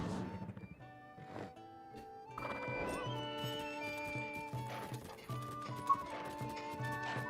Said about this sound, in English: Oh, that's Princess Zelda's golden horse.